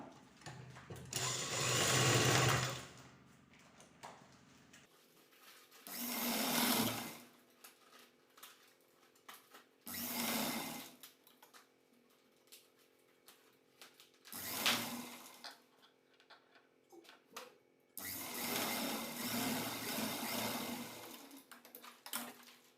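A sewing machine stitches the lining of a puff sleeve in five separate bursts, each a few seconds of whirring mechanical hum, separated by quiet pauses.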